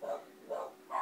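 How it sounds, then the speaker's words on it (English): Dogs bark faintly far off in three evenly spaced, muffled barks, soft and distant with no talking over them. "as soon as the dogs start barking"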